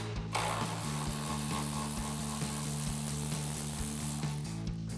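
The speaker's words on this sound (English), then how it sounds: "So now we can remove this 10mm bolt with our 10mm socket." A socket wrench ratchets steadily to loosen a 10mm bolt on the intake of a Jeep Gladiator JT, a quick, even clicking close up that runs alone for several seconds.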